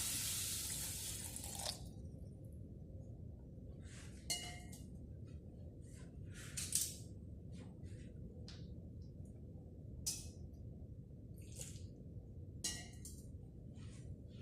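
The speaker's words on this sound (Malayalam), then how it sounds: "കുറച്ച് വെള്ളം ഒഴിച്ചു കൊടുക്കുക." Water pours and splashes into a pot of papaya for a couple of seconds, then quiet follows with scattered drips and light clinks.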